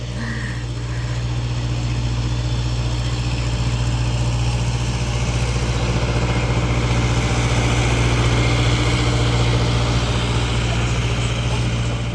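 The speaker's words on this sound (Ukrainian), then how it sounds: "вже їде тракторець і повіз людей на екскурсію по полям" A small tractor engine idles steadily and loudly close by, with a constant low droning hum and rattle throughout.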